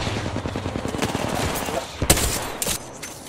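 Continuous rapid gunfire in a shooter game, a rattling stream of shots with a couple of louder sharp reports near the end, under faint voices.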